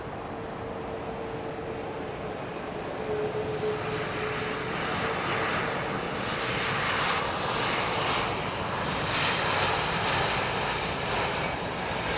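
A Boeing 737 arriving on runway 27R at London Heathrow roars broadly overhead, its jet engine noise building and holding steady and loud through the whole span.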